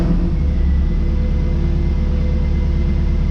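A 2002 Trans Am WS6 V8 engine runs after start-up, a loud, close, steady low rumble with a deep idle throb and no talking.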